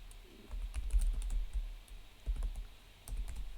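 Computer keyboard keys tapped in short, uneven bursts of clicks while entering a domain name at a login screen, close and fairly quiet, with no voices.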